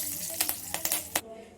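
Tempering of mustard seeds, cumin, chilli, asafoetida and curry leaves in oil for a red chutney gives a few sharp crackling pops over a soft sizzle, close and moderately loud, with no talking.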